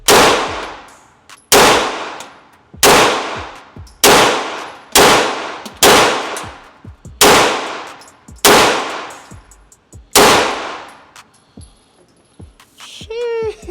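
Rapid strings of loud pistol shots from a MAC DS9 2011-style Staccato clone handgun, about eight sharp reports in quick succession with ringing decay between them, close to the shooter at an outdoor range.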